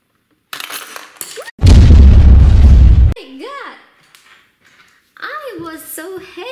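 A voice imitates a loud explosion, a burst of roaring breath lasting over a second, during a toy piranha game played with Angry Birds toys from Kinder Surprise eggs, with cheerful talk before and after it.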